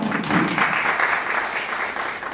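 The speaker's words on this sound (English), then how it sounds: "please welcome him again with the big round of applause" Audience members at a faculty development program on polytechnic accreditation give a speaker a warm round of applause, a dense, even wash of clapping that holds steady and fades slightly at the end.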